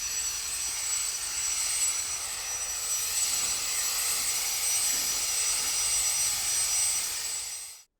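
A WORX WG543E 20V cordless leaf blower clearing pine needles produces a continuous high-pitched whooshing roar, steady and fairly close for about eight seconds before cutting off abruptly.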